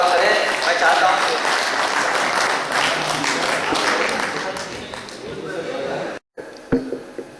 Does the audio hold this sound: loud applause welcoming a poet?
yes